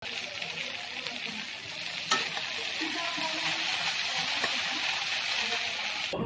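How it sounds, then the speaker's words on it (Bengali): Okra frying in a pan produces a constant close sizzle with stirring, a sharp utensil clank partway through, and no speech. "দেখো অনেকটা ভাজা হয়ে আসছে"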